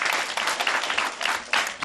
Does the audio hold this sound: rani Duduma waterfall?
no